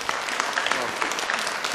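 Audience applause at a United Conservative Party of Alberta leadership debate, a steady wash of many hands clapping throughout at moderate distance, with no voices over it.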